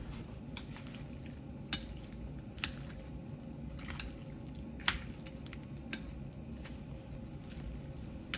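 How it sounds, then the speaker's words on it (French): Vietnamese bún nem being mixed with sauce, with peanuts and fried onion in the bowl: soft wet squishing and stirring with occasional utensil clicks, close and fairly quiet, no talking. "Je mélange."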